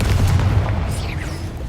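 Low booming blast of a Confringo spell explosion in Hogwarts Legacy, a single heavy thump that rolls off into a fading rumble with faint sweeping whooshes trailing behind.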